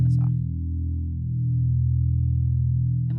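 Bass guitar played through effects pedals for a post-punk tone: a sustained, droning low chord thick with chorus and modulation, steady and loud, with brief string noise at the start and end.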